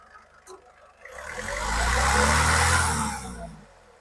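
A 2014 Honda City V diesel car engine runs steadily, with a low broadband rumble that swells to its loudest in the middle and then eases back, with no talking over it.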